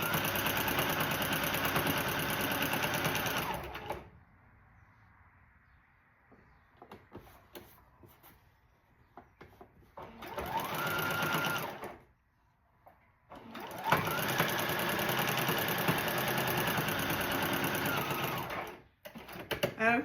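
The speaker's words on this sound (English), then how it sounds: "so now I have sewn through all 3 layers of this" A sewing machine stitches through three fabric layers of a rag quilt in long, loud, steady motor runs broken by quiet pauses, with a few brief handling noises in between.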